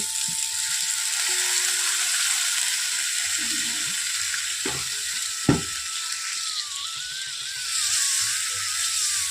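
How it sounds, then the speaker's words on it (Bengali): Potatoes and spices frying in a pan give a steady broadband sizzle, with a couple of sharp clanks near the middle as water goes in and the hiss continues at close range, no one talking. "এখন আমি এর মধ্যে দিয়ে দেব জল"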